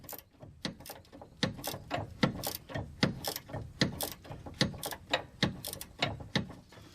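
Ratchet wrench backing off a nut on a Toyota Highlander / Lexus RX330 sway bar link, steady repeated clicking strokes at a quick even rhythm, close and moderately loud with no talking.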